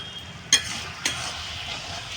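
Mushrooms and greens being stirred in a pan give a steady soft sizzle, with two brief sharp scrapes of the spoon against the pan standing out, close by.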